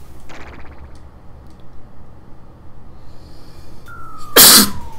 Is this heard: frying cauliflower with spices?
no